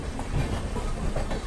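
The East Coast Express from Hyderabad to Shalimar runs on the parallel track, heard as a steady, close rail rumble with faint clatter and no voices.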